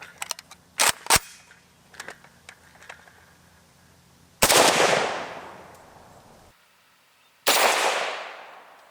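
An AK-47 rifle firing 7.62x39 rounds outdoors, two loud, sharp shots spaced about three seconds apart, each with a long decaying echo, preceded by faint clicks and handling noises.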